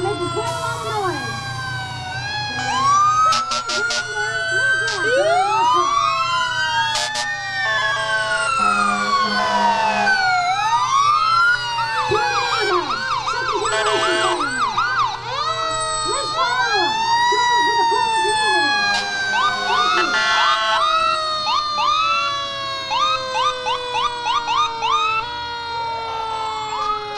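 Rescue truck sirens wail loudly at a St. Patrick's parade in Buchanan, with several overlapping rising and falling tones and horn blasts sounding close and continuous throughout.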